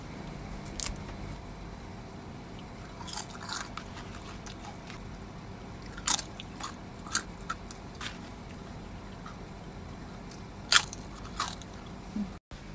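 Sharp, crisp crunches from biting homemade flat fried potato chips, scattered irregularly over steady background noise, close to the microphone.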